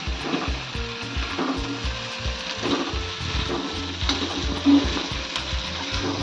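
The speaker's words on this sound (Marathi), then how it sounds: "आता भेंडी परतून घेते जरा" Okra sautéing in a pan, a steady frying sizzle with occasional stirring scrapes over a low, even background hum, no voices.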